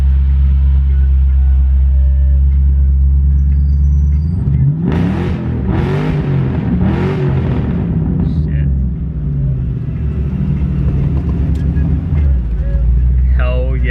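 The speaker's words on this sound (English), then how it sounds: "Hold on, let's see what I can do revving it." A Foxbody Mustang idles with a deep, loud exhaust rumble, then is revved in three or four quick blips that flare and fall back, before it settles into idle again.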